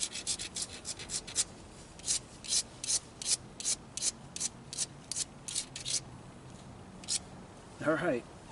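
Rhythmic grinding strokes as a dacite stone point's edge is abraded, a dozen or so short rasping bursts in steady succession, close and moderate in volume, ending with a brief voiced sound.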